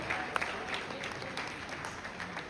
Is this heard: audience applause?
yes